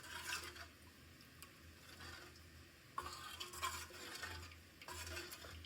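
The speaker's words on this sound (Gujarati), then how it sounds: "હવે આપણે જે આ તપેલું છે તે આપણે સારી રીતે મિક્સ કરી દઈશું" Dal is stirred in a cooking pot, with soft repeated scraping and swishing strokes and a few light clinks of a spoon against metal. The sounds are faint and close.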